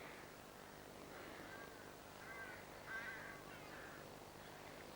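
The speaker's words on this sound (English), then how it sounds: "Lovely sound of crows. They're nesting in a tree over there." Crows cawing from a nesting tree across the way on a coastal walk, a few harsh calls spaced out over a steady outdoor background hiss, moderately distant.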